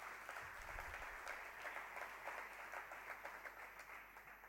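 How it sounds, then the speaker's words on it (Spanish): Steady applause from a book presentation audience, a dense patter of clapping that holds at an even level throughout, heard from a little distance. "José Mari, otro aplauso para él."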